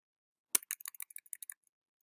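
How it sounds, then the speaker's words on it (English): A rapid burst of about a dozen crisp keystrokes tapped in quick succession, close and clear against silence. "I'm actually going to type this, I think."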